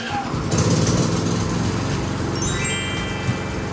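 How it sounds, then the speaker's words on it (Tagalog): A PK4200ie2A backup generator starting automatically during a power cut: its small engine catches and runs with a steady, buzzing drone close by, briefly louder, with a faint whine rising near the end. "magpa-brown out, mawawala ng supply si Maze, kaya naman dapat automatic na mabuhay yung ating generator"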